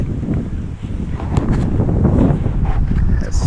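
Strong gusts buffet the microphone at a trout fishery during summer fly fishing, making a loud, continuous low rumble and roar with no break.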